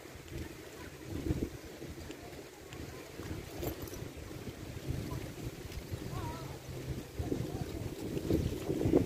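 Strong wind roars and gusts across the microphone at a car park in Yanbu, Saudi Arabia, a constant rough rush that swells at moments.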